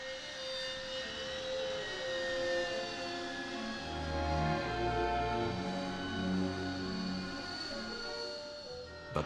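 A Harrier jet, the RAF close-support aircraft with rotating jet nozzles, roars steadily and loudly throughout, with a broad sustained engine rumble and shifting whine building toward the middle.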